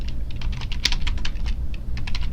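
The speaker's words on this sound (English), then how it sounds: "You can actually type in anything here." Rapid, close typing on a computer keyboard, a dense run of crisp key clicks with brief uneven pauses, heard alone without talk.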